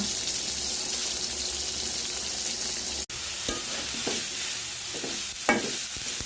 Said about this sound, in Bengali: এই হচ্ছে আমি বেগুন ভাজতেছি।